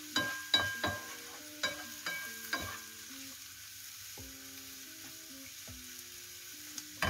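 Onion frying in a sauté pan as a spoon stirs it, with several sharp scraping knocks against the metal over a soft, steady sizzle. No one speaks.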